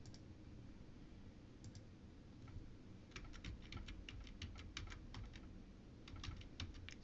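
Soft clicks from a computer keyboard come in a few scattered taps at first, then a quicker run of typing, faint and close in a quiet room.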